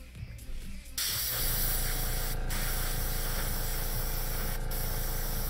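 Airbrush test-spraying air during painting of a 3D print: a steady, loud, even hiss starts after about a second and runs to the end, with quieter rustling before it.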